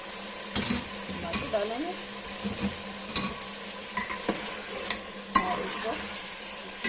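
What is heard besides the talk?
chicken frying with tomatoes in a pan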